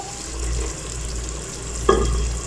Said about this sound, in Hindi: अब हम टमाटरों को अच्छे से पकने देंगे